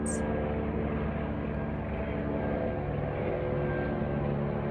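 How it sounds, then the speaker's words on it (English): A steady, low droning engine rumble from an aircraft, continuous and fairly distant, with no voices over it. "I'm just waiting for the helicopter to go off or the plane."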